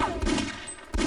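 Gunfire in the video game Half-Life: Opposing Force, a quick flurry of muffled shots and impacts over about a second, moderately quiet beneath game ambience.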